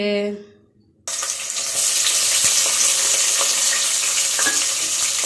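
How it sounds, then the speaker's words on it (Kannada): Onions dropped into hot oil in a cooking pot burst into a loud, steady sizzle that continues unbroken after a short quiet gap at the start. "ಈಗ ಈರುಳ್ಳಿ ಹಾಕ್ಕೊತಾ ಇದ್ದೀನಿ ಈಗ ಫ್ರೈ ಮಾಡ್ಕೊಳ್ತಾ ಇದ್ದೀನಿ"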